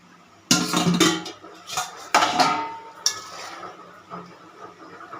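A metal lid being set on a cooking pot of rohu fish and potato curry, with several close, bright clanks and scrapes of metal on metal separated by short pauses.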